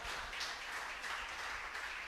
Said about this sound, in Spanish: Démosle el mejor aplauso a Dios.